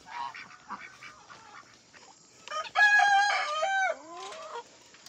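Guinea fowl call near a farmyard, a run of harsh clucking notes followed by a louder, ringing series of repeated cries, with no talking over them.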